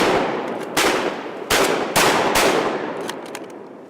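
Several loud shotgun blasts ring out close by during a waterfowl hunt, coming in quick succession within a few seconds, each followed by a booming echo over the open outdoor setting.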